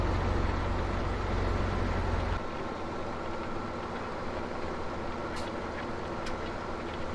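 Tractor engine in the farming game Farming Simulator 17, a steady low rumbling drone that drops slightly in level after a couple of seconds and keeps running alone, fairly faint.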